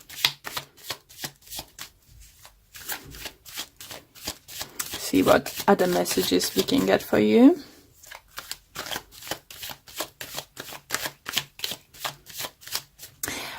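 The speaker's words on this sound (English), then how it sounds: "let's pull a few additional cards." Tarot cards are shuffled in a quick, regular patter of crisp flicks close to the mic, with a denser burst of riffling in the middle. Someone talks over much of it.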